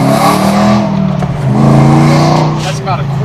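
An off-road vehicle engine revs loudly through its exhaust at about quarter throttle, rising and falling in a close, rough roar while people talk over it.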